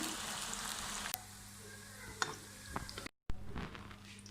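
Close, continuous sizzle and crackle of onions frying in hot oil, with a few sharp clicks and a brief dropout to silence partway through.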